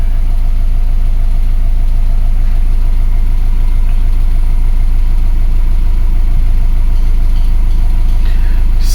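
A 2004 Subaru Forester with a low-power fault idles steadily, a loud close engine drone with a deep even rumble and no voices.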